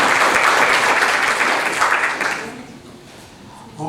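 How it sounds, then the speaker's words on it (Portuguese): An audience at a Black Consciousness Day gathering applauds in a loud, dense burst that fades away over the last couple of seconds, leaving quieter room noise. "uma salva de palmas aí para a Rádio Coringão e para todos os seus ouvintes."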